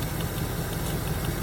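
A 1977 Chevy Camaro that sat parked for almost 20 years idles with a steady, even, close-up engine rumble and no talking.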